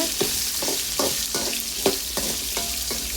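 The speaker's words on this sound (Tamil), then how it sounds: "பெரிய வெங்காயமும் பூண்டும் நம்ம ஆட் பண்ணிக்கலாம். இதை நல்லா கலந்து கொடுத்துக்கோங்க" Chopped onion and garlic fry in hot oil for mint chutney, a constant close sizzle broken by about seven regular scraping stir strokes.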